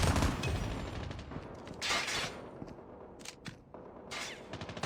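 Gunfire in Call of Duty Mobile on the Highrise map, with several separate sharp shots and short bursts standing out from a quieter background, fairly close and loud.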